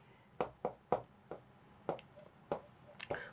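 Chalk or marker strokes on a board during a history class come in a series of short, scratchy taps and swipes at an uneven pace, close and fairly quiet, with a teacher's voice speaking softly in between.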